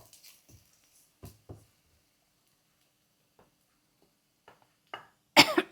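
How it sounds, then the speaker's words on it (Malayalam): A person coughs a few times in a home kitchen while chili powder and fenugreek spice mix is being prepared, short close bursts separated by quiet, ending in a louder harsh cough. "ചുമ വരുന്നുണ്ട്."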